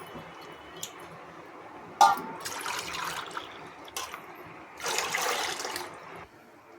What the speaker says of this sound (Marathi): यामध्ये अजून 5 भांडी पाणी ॲड करायचं आहे